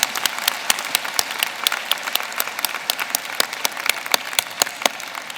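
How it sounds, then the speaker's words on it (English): Graduates and audience clap at a university convocation, fairly sparse applause with distinct individual claps standing out sharply in a steady, moderately loud patter. "let's have a round of applause"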